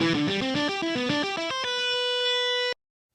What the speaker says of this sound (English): maybe you want to hear that with more of like a distortion guitar sound